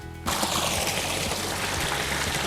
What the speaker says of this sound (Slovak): Cez každú správnu dedinku potok preteká.